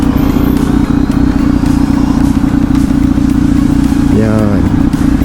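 Motorcycle engine on a Sunday morning ride at Vermosa, a loud, steady drone throughout with a brief rising rev near the end, and someone talking over it.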